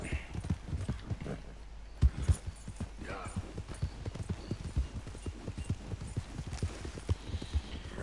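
Horse hooves trotting steadily in Red Dead Redemption 2, a continuous run of rapid, even clip-clop beats close up, with faint background game ambience throughout.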